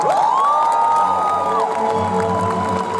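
A Dutch Comic Con audience cheers and whoops loudly in a steady, dense crowd roar, with a rising tonal swoop sounding over the noise near the start.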